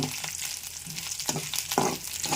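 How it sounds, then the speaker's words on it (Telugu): Pieces of raw banana sizzle steadily in hot oil with curry leaves, with occasional stirring scrapes and crackles up close. "చక్కగా ఏగిపోతున్నాయి"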